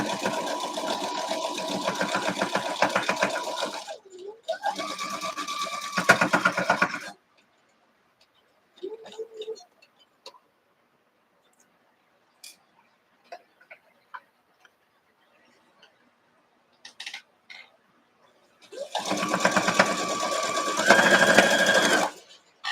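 Sewing machine stitching a quilt block, running in two long loud bursts at the start and again near the end, with quiet gaps and a few faint clicks between them.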